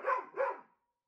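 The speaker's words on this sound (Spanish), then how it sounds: "que te está ladrando" A dog barks twice in quick succession, loud and close, then falls silent; the setting is a home during a playful moment with pets.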